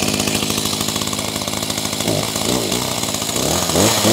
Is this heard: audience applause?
no